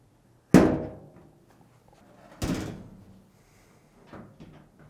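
Three hollow plastic clunks spaced about two seconds apart as a Samsung dryer top cover is pushed and latched into place, with quiet between them.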